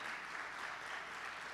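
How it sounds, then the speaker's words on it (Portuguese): A church congregation applauding together, a dense even wash of clapping held at moderate distance for a short stretch, with no voices on top. "Dá um aplauso para Jesus aí,"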